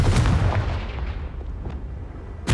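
A Confringo blasting spell in Hogwarts Legacy goes off as a heavy, booming explosion that decays into a rumbling tail, with a second sharp blast at the end, close and loud.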